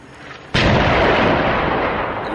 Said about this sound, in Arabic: قصف عنيف على مدينة الرستان